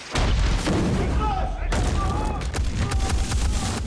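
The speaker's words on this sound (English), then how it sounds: "We've got a large explosion at the bottom of the tree, and the wire rig will make that fall." Film-set pyrotechnic charges simulating .50 cal hits on trees go off in a dense, loud barrage of booms and cracks, with a large blast at a tree's base, while voices shout over the battle.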